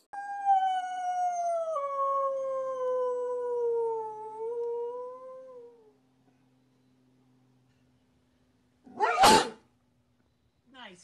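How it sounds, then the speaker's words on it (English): One sharp, loud sneeze bursts out near the end, following several seconds of a sustained howling, dog-like wail and a silent pause. "I sneezed."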